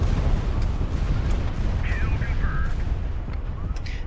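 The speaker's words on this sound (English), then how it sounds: "let's launch a couple of Zenith missiles" Zenith missiles launched in the naval combat game HighFleet, heavy rumbling booms and artillery-like blasts over a loud, dense low-end roar with a brief whistling tone partway through.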